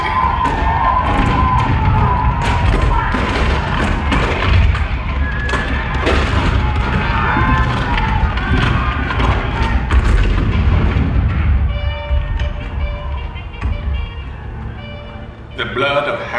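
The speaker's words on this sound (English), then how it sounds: "April 12, 1861, Fort Sumter. The cannon spoke for war, bitter, violent," Cannon fire re-created for the 1861 bombardment of Fort Sumter, with heavy booms and thuds blended into a dense, loud soundtrack under a narrating voice, with crowd-like swells.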